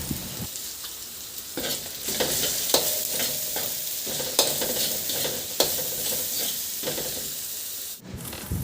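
Pork liempo and onions sautéing in a pan, stirred with repeated scraping strokes over a continuous hissing sizzle, close by, with a brief pause near the end.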